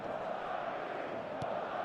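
A stadium crowd roars in the football video game eFootball 25, a broad, steady wall of cheering noise held at an even level, with a brief thud partway through.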